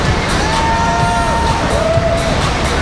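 A loud, continuous crowd cheers and whoops for a local rider on the FlowRider wave at World Waterpark in West Edmonton Mall, Edmonton, over the rush of water and a few sustained yells.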